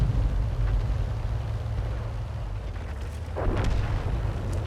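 Artillery fire in a tank video game, from a 105 leFH18B2 gun setting: low, heavy booming rumbles roll on throughout, with a sharper blast near the end, loud and with no voices.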